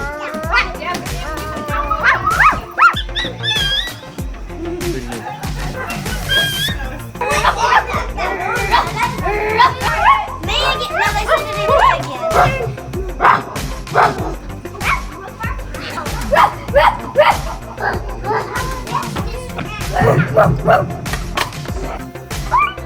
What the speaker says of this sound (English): The 2019 Barking National Contest.